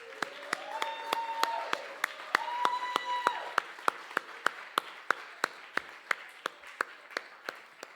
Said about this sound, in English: if we can have a big round of applause for all of the speakers we've heard tonight